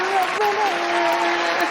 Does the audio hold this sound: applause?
yes